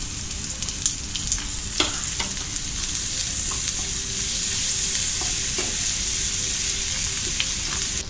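Crushed ginger, garlic and green chili fry in hot oil for chili chicken, a steady close sizzle with scattered clicks of stirring and no talk.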